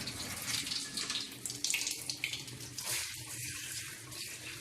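Warm water runs steadily from a sink tap into the basin, a continuous close splashing hiss with no talking over it.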